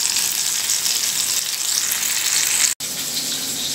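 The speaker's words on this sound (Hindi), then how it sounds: "इसको फ्राई करेंगे, मीडियम आंच पे फ्राई करेंगे।" Fish fries on medium heat, a close, steady sizzling hiss that continues without pause apart from one split-second cut.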